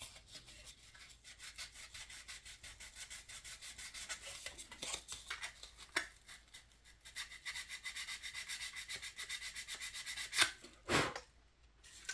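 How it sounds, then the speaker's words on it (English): Hand sanding of body filler on a 1957 Cadillac Eldorado Brougham scale model kit: quiet, rapid back-and-forth rasping strokes repeat in a steady rhythm close to the microphone, with a few louder scrapes near the end. "Yeah, that's sanding alright."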